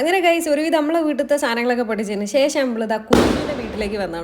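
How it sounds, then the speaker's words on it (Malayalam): Firecrackers set off by children close by. A sharp burst lands near the end after a stretch of talking, with more crackling pops behind it. "ഇപ്പോഴും നിങ്ങൾക്ക് പടക്കം പൊട്ടണ ഒച്ചയൊക്കെ കേട്ടോ. കാരണം വീട്ടിൻ്റെ അടുത്തുള്ള കുട്ടികൾ പൊട്ടിച്ചോണ്ട് നിൽക്കുകയാണ്."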